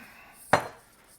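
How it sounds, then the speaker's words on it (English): A bowl is set aside on a kitchen counter while preparing seitan, making a single short clink of ceramic or metal against the surface amid quiet room noise. "let's get the bowl out of the way"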